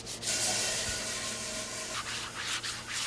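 Sandpaper rubs steadily over old, grimy hanok wooden floorboards being reclaimed, a close, continuous abrasive scraping in short repeated strokes.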